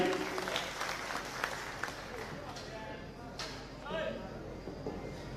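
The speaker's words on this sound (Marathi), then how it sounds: "एकदा होती जोरदार टाळी" Loud applause breaks out from a crowd at a BJP political rally in Jat, Sangli, with broad clapping bursts rising and falling as the speaker's voice carries on loudly over it.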